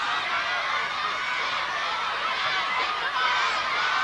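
Melton Mowbray supporters at a 1982 It's a Knockout contest cheer steadily from the stands, a broad, even wash of shouting and crowd noise that holds at the same loudness throughout.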